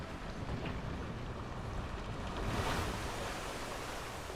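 Broad rushing splash of a water ride plunging into its pool in a Planet Coaster theme park, steady wash of noise swelling slightly midway, with no talk.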